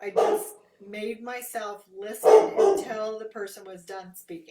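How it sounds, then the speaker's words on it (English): A dog barks and yips at a UPS delivery person, several short barks mixed in with someone speaking continuously over them. "so sorry for the dog there"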